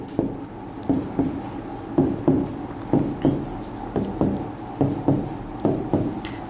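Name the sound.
writing chemical formula bonds on a board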